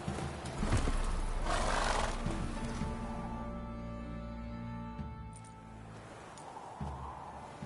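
In the Witcher 3 video game, the horse Roach whinnies and snorts amid hoof clip-clops and ambient game sounds, loud at first and then easing off.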